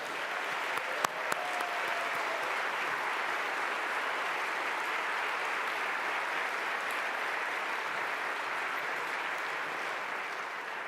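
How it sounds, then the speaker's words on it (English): A conference audience applauds mayors of winning cities with sustained, dense clapping that fills the room at an even loudness from start to finish. "let's give them a round of applause."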